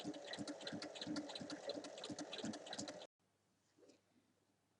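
Sewing machine stitching a zipper to fabric for a bag, a steady close whir with rapid needle ticks for about three seconds, then stopping abruptly into near silence.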